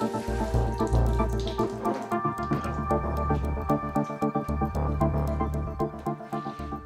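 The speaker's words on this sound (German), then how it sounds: "lässt er Wasser drüber laufen." Water runs steadily over the joints of a tiled wall, a close, continuous splashing and trickling flow with faint throbbing under it.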